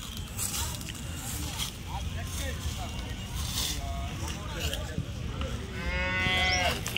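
Cattle and calves lowing and mooing amid a busy outdoor din at a weekly cattle market in Punganur, with people talking in the background and a clearer moo near the end.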